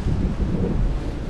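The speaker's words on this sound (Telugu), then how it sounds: "గాలి చూడండి" Strong wind blows through the hills during a thunderstorm, roaring and buffeting the microphone in a dense, low, continuous rush.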